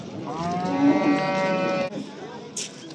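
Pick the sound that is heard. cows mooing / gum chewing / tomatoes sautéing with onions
cows mooing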